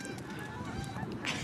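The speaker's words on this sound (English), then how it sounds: "Another swarm of geese coming through." A flock of geese honks repeatedly as it flies over a girls' high school soccer match. The calls are moderately distant and faint above steady outdoor ambience.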